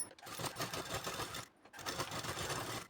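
Sewing machine runs a continuous double line of top stitching on a katori blouse, loud and steady with a brief pause near the middle before the motor picks up again.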